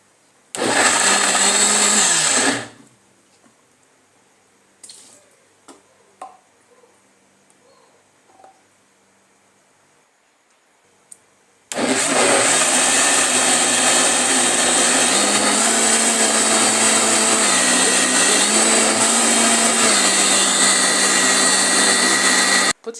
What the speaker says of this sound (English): when I blended it, it's so nice